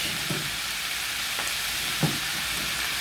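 Cabbage hits a hot pan of vegetables for pancit canton and fries in a loud, steady sizzle, with a few soft stirring knocks breaking through the constant hiss.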